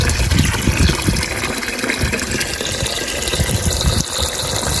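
Water gushing loudly into containers being filled to soak rice seeds, a steady rushing, splashing pour that runs without a break, with no voices.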